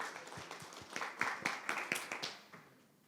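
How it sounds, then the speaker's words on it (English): At an international renewable energy forum, a small audience gives scattered, faint claps for the presenters and panelists, irregular and fading away within a few seconds. "Let's give them a big round of applause."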